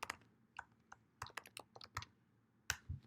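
A computer keyboard clatters with quick, irregular keystrokes as a command is typed, close and fairly quiet, with short pauses between bursts of clicks.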